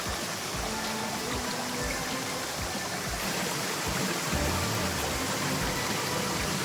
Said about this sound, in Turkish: buraya hayat veren bu buz gibi su, pınar gözü